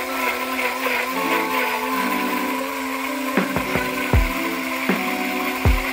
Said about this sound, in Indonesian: Lumayan halus untuk ukuran sebuah blender suaranya.